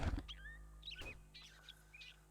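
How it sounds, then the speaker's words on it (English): A bird squawks and chirps in the survival video game 7 Days to Die, with several short rising calls spread across the moment, fairly faint over a low ambient hum. "I heard a squawk from a bird"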